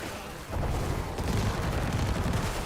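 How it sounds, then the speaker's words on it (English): Dense, rumbling barrage of explosions from a left-click attack in Diablo IV, loud and continuous after a brief quieter start, with no talking. "right now my left click is literally just explosions"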